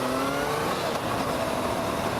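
Motorcycle engine revving during an A1-to-A2 licence ride, a continuous loud mechanical drone with a rising, shifting pitch, close and alone without voices.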